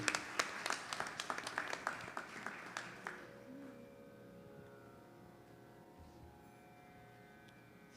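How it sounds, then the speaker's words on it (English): Audience applause welcomes a speaker to the podium at a Sunday morning Krishna temple service, a fairly quiet patter of clapping for about three seconds before fading into a low hum of room tone. "please join me with a round of applause in welcoming to the podium Mr. Justice Rani Budu Singh."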